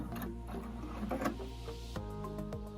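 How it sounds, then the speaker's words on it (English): A domestic sewing machine stitches a straight line with a short backstitch, running in a steady mechanical rhythm with fine ticking clicks, fairly close and alone. "I'm going to go ahead and backstitch here"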